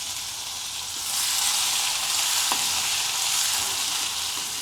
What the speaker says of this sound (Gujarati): થોડી વાર તેલમાં રહેવા દઈએ એટલે મરચું લસણ ને સરસ થઈ જાય.